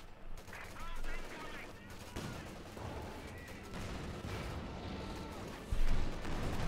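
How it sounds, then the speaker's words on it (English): American .50 cal machine gun fire in a Company of Heroes 2 battle against German forces: repeated rattling bursts mixed with other distant gunfire and rumbling combat noise, moderately loud throughout. "hosing down those Crouch with good old American 50 cal fire"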